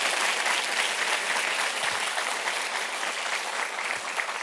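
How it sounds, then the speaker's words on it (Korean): A large congregation at a worldwide youth retreat church service claps together in loud, sustained, even applause that fills the whole stretch without a break. "만군의 여호와 하나님께 영광의 박수를 보냅시다."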